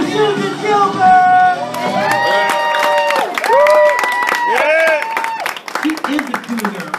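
Comedy club crowd at the Improv in Palm Beach applauding and cheering comic Susan Gilbert, a loud sustained wash of clapping and whoops under a host's amplified voice calling out over the room.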